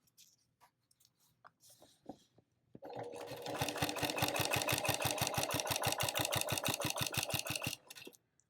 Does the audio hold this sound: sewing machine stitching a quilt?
yes